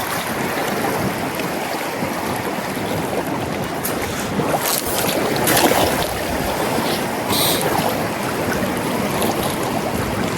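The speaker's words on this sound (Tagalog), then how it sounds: "Hinihila ng agos. Anong lakas oh." A strong river current rushes loudly and continuously during a fishing outing, a dense steady roar of churning water with occasional louder surges and splashes.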